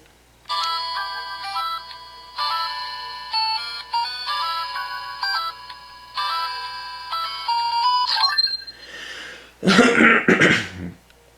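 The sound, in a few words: toy phone ringtone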